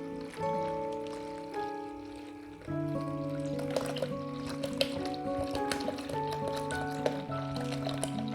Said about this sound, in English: now I'm going to pour some water to simulate the water in the tank.